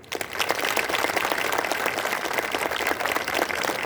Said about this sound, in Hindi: एक बार फिर से जोरदार तालियां